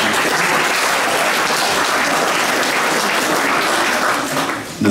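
Loud, dense applause from a football club audience after a speech, a continuous close roar of many clapping hands that dips slightly near the end.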